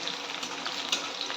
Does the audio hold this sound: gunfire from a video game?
no